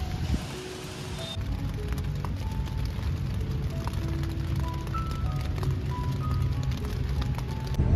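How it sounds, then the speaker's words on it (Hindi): Heavy rain falls steadily on plastic sheeting at a park near India Gate in Delhi, a dense continuous patter with scattered louder drops close by and no talking. "बारिश तेज हो गया अभी तो"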